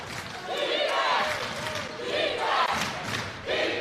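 Basketball crowd cheering in a gym during the closing seconds of a PSAL boys high school playoff game, loud surging shouts and roars rising and falling in waves, with a commentator's voice mixed in.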